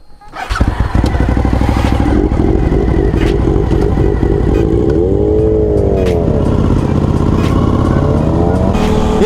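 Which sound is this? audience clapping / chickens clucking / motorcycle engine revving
motorcycle engine revving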